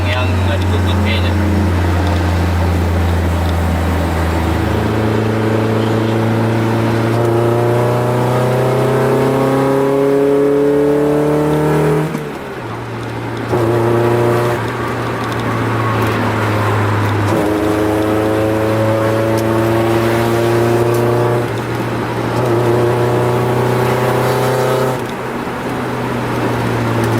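A Honda Accord Maestro with an F22B1 VTEC engine pulls through the gears from inside the car: loud, close revs climb repeatedly and drop at each shift, with a brief lift around the middle, over steady road noise.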